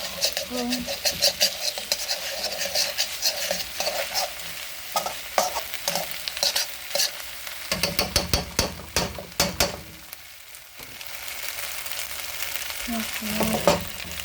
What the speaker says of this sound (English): Just want to get all the rice mixed in.